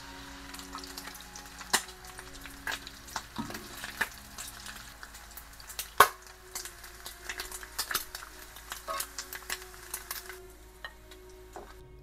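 Thick-cut peppered bacon strips, cut in half, fry in a pan with soft continuous sizzling and popping, plus occasional clinks of a utensil.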